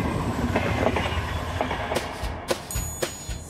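Heard from inside a moving train, a steady rumbling roar of wheels on rails carries faint rhythmic clicks and a few sharper clacks near the end.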